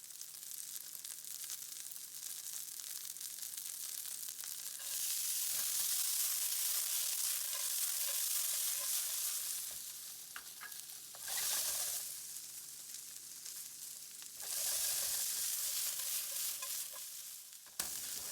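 Potato gnocchi fry in a pan with carrots and frozen peas, a soft steady sizzle that swells into louder hissing bursts as the pan is stirred, close and alone without talk.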